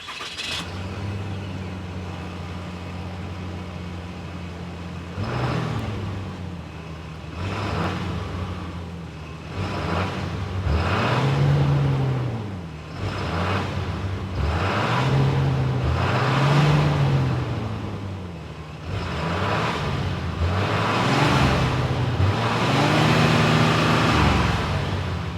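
A 2026 Ram 2500 Rebel pickup's 6.7-liter Cummins turbo diesel engine fires up and settles into a steady idle, with several deep revs rising and falling throughout, loud and close with no talking.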